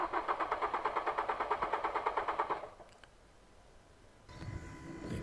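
A Ford Fiesta ST Mk6 with a 2.0 Duratec engine cranks on the starter during a compression test, a fast rhythmic chugging that stops after about three seconds, followed by quiet and then a faint rising hum.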